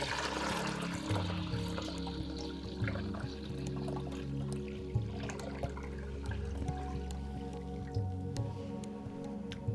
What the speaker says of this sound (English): Start by emptying all the contents into the commode.